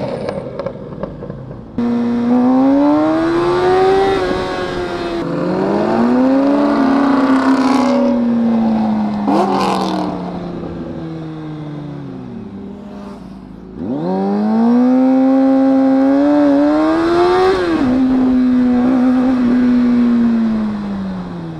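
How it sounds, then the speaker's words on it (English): A racing motorcycle engine revs up and down through repeated rising and falling sweeps, loud and close, with gear changes between pulls. No separate backfire pops stand out. "He's backfiring a lot."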